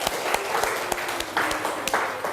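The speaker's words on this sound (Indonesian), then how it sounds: "Lagi sekali tepuk tangan." A classroom of schoolchildren applauds a group presentation, a modest patter of claps with a few sharper hand strikes standing out, steady through the short stretch and moderately close.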